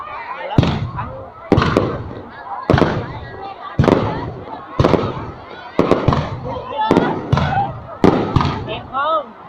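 Fireworks bursting over a Vietnamese village, about nine sharp loud explosions in an irregular rhythm with crackling tails, while people talk and call out between the blasts.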